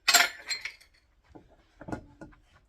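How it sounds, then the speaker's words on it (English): A whisk stirring dry cookie ingredients, including baking powder, baking soda and salt, in a bowl for chocolate chip barley cookies: a few bright, irregular clinks of metal against the bowl, loudest at first, then softer taps. "Whisk that in here right quick"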